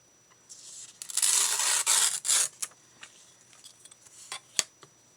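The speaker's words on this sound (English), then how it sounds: "I'm going to just tear it like this." Paper torn by hand for a journal page, a close, bright ripping burst lasting about a second and a half, then a shorter tear and a few scattered crinkles and taps.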